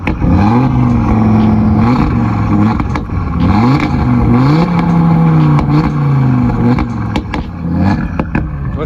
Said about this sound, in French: Vas-y, fais un petit rupteur, ouais.